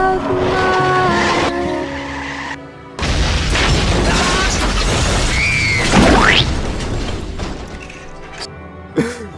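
Cars in a video game skid and crash with heavy rumbling, a rising tire squeal and a booming impact. The loud, continuous game audio has a brief drop partway through.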